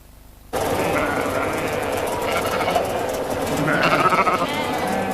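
Sheep bleat in a chorus of wavering, nasal calls that begin suddenly, several animals overlapping and fairly close, with a swell of louder bleats near the end.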